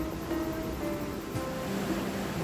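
A continuous roar of rushing water, loud and unbroken, as the Waikato River surges through a gorge at Huka Falls near Taupo, New Zealand, with no voices.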